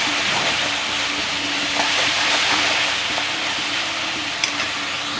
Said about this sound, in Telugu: తగినంత ఉప్పు వేసి బాగా వేయించాలి